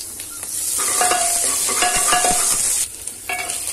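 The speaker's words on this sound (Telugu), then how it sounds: "బాగా ఆనియన్స్ ఫ్రై అవ్వాలి" Onions frying with ginger-garlic paste for egg biryani give a loud, close sizzle, with bursts of stirring and clinking from a spoon in the pan and a brief drop near the end; no one speaks.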